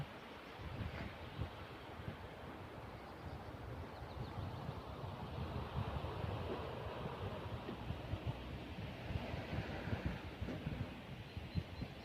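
Steady broadband rush of sea waves in Norway mixed with wind buffeting the microphone, continuous and fairly faint throughout, no voices.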